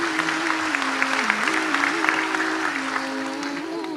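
Applause from an audience at an Islamic religious lecture, a steady clapping wash lasting about four seconds with a sustained tone running underneath.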